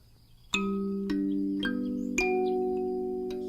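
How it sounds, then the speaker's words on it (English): A thumb piano in a game setting, its metal prongs plucked one at a time: four clear, gentle notes about half a second apart, each ringing on and overlapping the last, close and alone with no voices. "He began to pluck at the metallic prongs, a gentle ringing sound resonating with every flick of his thumbs"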